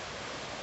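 A waterfall in Thailand roars as a steady, dense rush of falling water, close and even throughout the brief moment.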